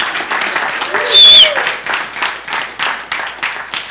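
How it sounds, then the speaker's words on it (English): A small audience applauds a speaker with loud, close, somewhat uneven clapping and a brief shrill whistle or cheer partway through. "Give him a big hand."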